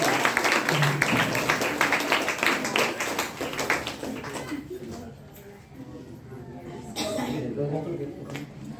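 An audience at a DXN program in Bhagwanpur claps in a dense burst of applause that thins out and fades after a few seconds, giving way to someone speaking.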